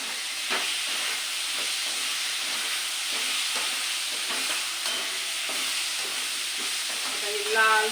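Chopped ridge gourd sizzles steadily as it roasts in a hot pan, a continuous frying hiss with faint scraping stirs throughout and a brief louder clatter near the end.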